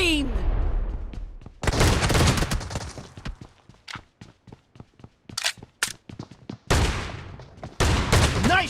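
Gunfire in the mobile shooter PUBG Mobile: sharp bursts and long rattling volleys alternate with clusters of single cracking shots, loud and close, separated by brief quieter gaps.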